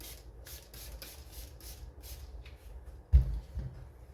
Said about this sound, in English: I'm going to start with some 1000 grit wet and dry to get this polishing process started.